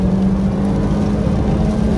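Honda Brio Satya S manual 2014 engine accelerating hard in second gear with the AC off, a loud steady rising drone close inside the cabin that fills the whole stretch without a break.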